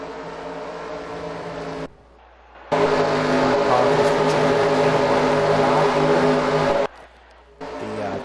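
Race cars rolling in a NASCAR video game, a loud continuous engine drone from the game with two brief drops to near silence partway through.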